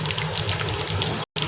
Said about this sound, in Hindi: तो राई की इस तरीक़ा से आवाज़ आनी चाहिए।